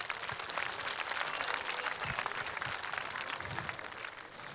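Sustained applause from a crowd at an election event, dense continuous clapping at a steady level throughout, loud and close.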